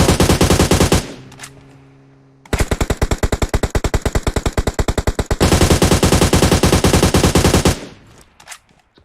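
Loud automatic gunfire in the mobile game PUBG Mobile comes as long rapid bursts of evenly spaced shots, with a brief lull after the first burst before two more sustained volleys, close and dominant with no talk.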